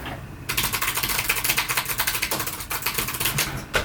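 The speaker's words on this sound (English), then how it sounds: "Yeah, it's a mechanical keyboard" Fast, continuous clacking of keys on a new mechanical computer keyboard, dense rapid strokes that are loud and close, with a short pause before a final burst.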